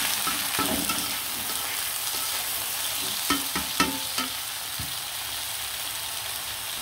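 Sliced bitter gourd rounds sizzle in hot oil with garlic and onion fried until reddish, a steady frying hiss throughout with a few louder clatters of stirring near the middle and end.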